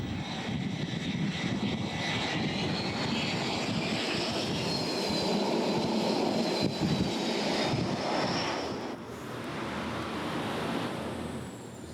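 Military jet landing on the deck of the French aircraft carrier Charles de Gaulle at sea, a loud sustained engine roar with a rising whine that holds steady, then drops off near the end over rushing wind and sea noise.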